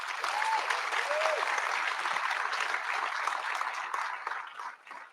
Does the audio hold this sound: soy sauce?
no